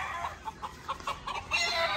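Chickens and roosters at a gamefowl breeding yard make close, repeated clucking calls and bits of crowing in quick, uneven bursts, with no talking.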